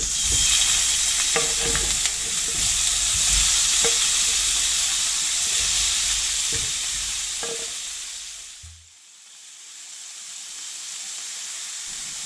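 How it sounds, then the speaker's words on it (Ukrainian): Bacon frying in a spoonful of oil in a pan: a steady, bright sizzle and crackle with scattered pops and occasional stirring, continuous and close, easing briefly near the end before resuming. "Поки бекон шкварчить,"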